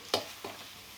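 Rice being tossed with vegetables in a pan for chicken fried rice, two short sizzling scrapes of the spatula a moment apart over a faint background hiss, close, with no talk.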